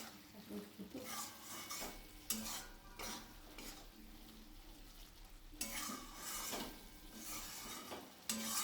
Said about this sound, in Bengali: মশলার সাথে ভালোভাবে এটাকেও ভেজে নেব।